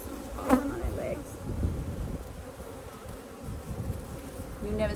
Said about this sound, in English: These bees are good.